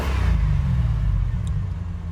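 A Corvette sweeps past with a low engine rumble that is strong at first and then fades a little as it moves away.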